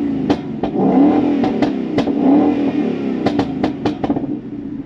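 A Euro-market Ford Mustang with a modified, not fully open muffler revs hard on a test drive, its loud, close engine broken by repeated sharp exhaust pops and crackles that come in quick clusters as the throttle opens.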